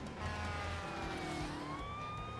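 An ambulance siren wails through a chase scene in the Doctor Who TV movie. Its pitch slides and changes over steady background noise, and no one talks over it.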